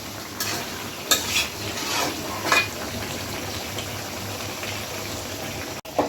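Pork being stir-fried slowly in a pan for kala bhuna until darkened, with a steady sizzle broken by scraping spatula strokes against the pan at irregular intervals and no talking.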